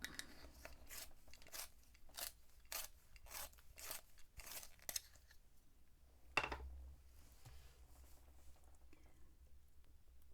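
White colored pencil being sharpened, a series of quiet rhythmic rasping turns in quick succession, then a single louder scrape and soft handling noises, close and faint.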